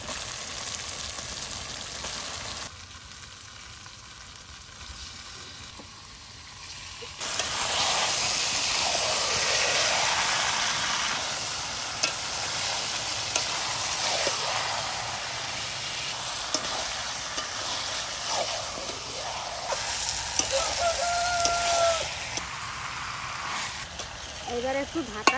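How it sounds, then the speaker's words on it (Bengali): Chicken pieces sizzle loudly in a pot over a wood fire, the frying hiss swelling as the meat goes in and continuing with stirring scrapes while someone talks over it. "এবার মাংসটা দিয়ে দেবো"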